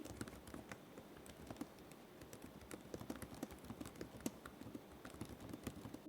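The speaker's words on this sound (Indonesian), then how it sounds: "Typing sound-nya pun juga lembut banget." Soft, quiet typing on the keyboard of an HP Pavilion Aero 13 laptop: a steady run of light, close key taps with an uneven rhythm, with no talking.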